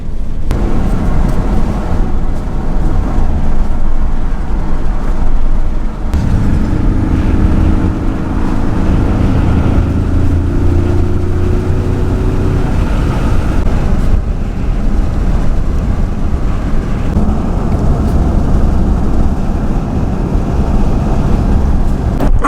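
A 2018 Ford Mustang with a 4-cylinder EcoBoost turbo engine drives on the road, giving a steady loud engine drone and road rumble with wind noise and a rising tone partway through.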